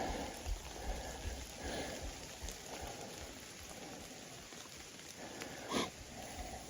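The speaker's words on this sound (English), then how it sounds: "And the rain's picking back up." Soft, steady patter of rain falling outdoors on a hike among downed trees, faint and even, with a few small rustles and a brief sniff.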